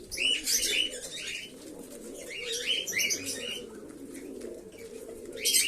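Male lakka (fantail) pigeons coo at a morning feeding, low rolling coos repeating steadily near the birds, with sharper chirps and tweets from other birds overhead.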